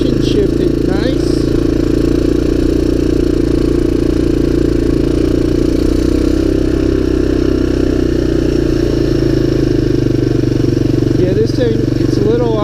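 A 1985 Honda ATC250ES three-wheeler, cold and old, runs steadily close by with a low, even engine drone and a few faint squeaks on top, and a person talks over it now and then.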